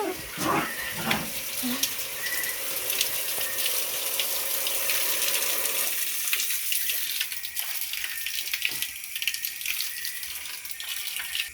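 Water runs steadily from a tap, a continuous splashing hiss that carries on for several seconds with faint background sounds.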